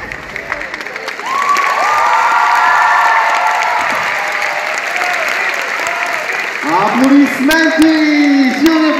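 A crowd at a Nanatsu No Taizai cosplay performance applauds loudly and steadily, mixed with cheers, while voices shout over it.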